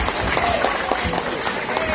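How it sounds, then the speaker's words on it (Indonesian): Crowd at a women's political rally clapping in a short burst of applause, dense and close, with voices mixed in beneath the clapping. "tepuk tangan dulu"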